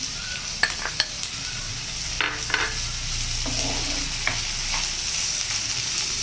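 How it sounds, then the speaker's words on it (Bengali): Vegetables with peas and semolina fry in a pan for sooji upma, giving a steady close sizzle with scattered spoon taps and scrapes as the mix is stirred. "এবার এটা আমি 2 থেকে 3 মিনিট ভালো করে একটু ফ্রাই করে নেব"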